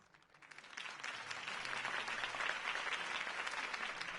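A crowd applauds after a campaign speech in a Batman scene, the clapping rising quickly from quiet into a sustained, dense roar that holds steady and full until the end, with no one speaking over it.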